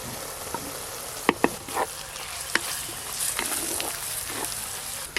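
Spices with crushed ginger and garlic fry in a pan for a mutton curry, giving a continuous close sizzle broken by several sharp scraping knocks of a spatula stirring.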